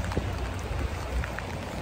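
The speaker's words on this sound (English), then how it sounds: "It's raining really hard." Heavy rain pours steadily and close by, a dense patter heard alone with no talk.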